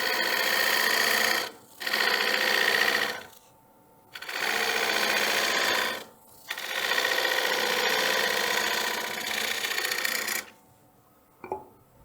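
A woodturning lathe tool cuts a lifted foot into a wooden platter, giving loud rasping bursts of cutting, roughly four long passes, separated by brief quiet pauses, with no talking.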